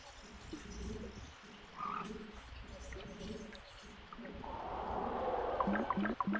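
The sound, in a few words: frogs croaking in the video game Secret of Evermore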